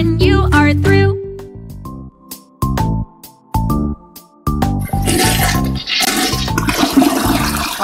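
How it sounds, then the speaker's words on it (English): Toilet flush in a children's potty game with Abby and Elmo, a loud rushing swirl of water over the last few seconds, preceded by bright cheerful game music notes. "Click on the potty to flush."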